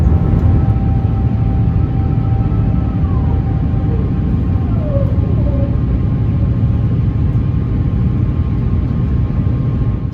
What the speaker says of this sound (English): I'll leave you to enjoy this stunning takeoff on a beautiful day.